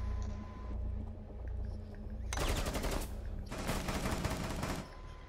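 Bursts of video-game gunfire at an octopus enemy, two dense rattling volleys of rapid shots, each lasting about a second, loud and close over a quieter game background.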